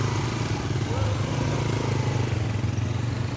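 A group of motorcycles rides together, their engines blending into a steady, loud, rumbling drone that continues without a break.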